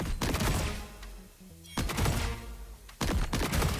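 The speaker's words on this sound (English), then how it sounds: "start shooting through the smoke" Rapid automatic gunfire rings out in the video game Counterfeit, with sustained bursts separated by a brief lull and a few small clicks before the shooting resumes.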